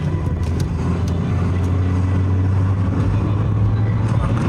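A passenger car on a test drive gives a steady low engine drone with road rumble as it drives and accelerates, heard from inside the cabin with a few faint clicks.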